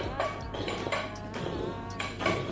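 A metal saucepan handled in a home kitchen: several quick, ringing clanks and knocks of cookware in close succession, loud and near, with a faint voice in the background.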